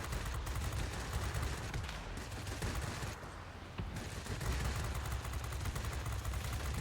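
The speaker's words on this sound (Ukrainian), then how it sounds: "Пушка гарна, але ну, дуже швидко перегрівається, на жаль." Rapid, continuous autocannon fire from an Ar 197 fighter in a World of Warplanes-style air combat game, loud and sustained across the whole stretch with only a brief dip, no voices.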